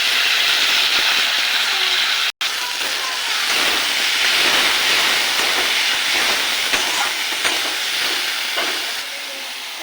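Chopped tomato and freshly ground spice paste hitting hot oil in a pan for matar ghugni, producing a loud, dense, continuous sizzle and hiss close by, broken once by a split-second dropout, no voices.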